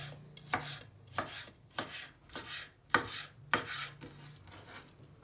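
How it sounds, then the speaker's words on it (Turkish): Knife chopping chicken into cubes on a cutting board, about nine quiet, evenly spaced thuds with scraping between them, close and faint with no talk. "Tavuğu küp küp doğramayı tercih ettim."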